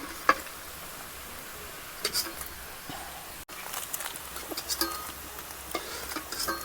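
Vegetables stir-frying in a pan for fried rice, a quiet steady sizzle with scattered ticks and scrapes of stirring, close by.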